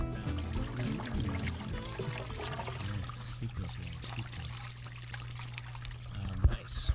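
Backwash water gushing and trickling out of a pool filter system at a steady, fairly loud flow with a constant low hum underneath, while people talk over it throughout.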